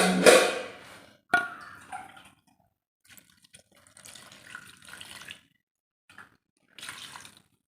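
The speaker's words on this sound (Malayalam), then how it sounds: "തിളപ്പിച്ച വെള്ളം എടുത്തൊഴിച്ച് കൊടുക്കുക" Boiled water is poured into a pan of Kerala-style crab roast, with a loud splashing pour at the start, a second short splash, then quieter trickles and bubbling dribbles, no talk.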